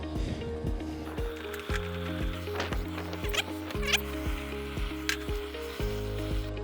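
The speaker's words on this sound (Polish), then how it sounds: "i znów wypalamy teraz olej" Oil sizzling in a new wok being seasoned, a close crackling hiss under a low, rhythmic droning tone and occasional scraping clicks.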